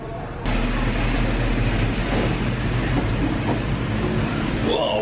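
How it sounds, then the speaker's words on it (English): A train pulling into a station in Pattaya, Thailand, heard as a loud, steady rumble with a deep low hum and a sharp transient near the start, continuous and close. "the train's just pulled up"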